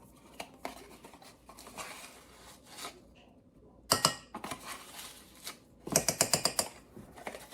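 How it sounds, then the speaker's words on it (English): Dry ingredients for molasses cookies, including flour and baking soda, are whisked in a bowl, producing bursts of rapid scraping and ticking strokes against the bowl with short pauses between them. "let's go ahead and whisk up our dry ingredients"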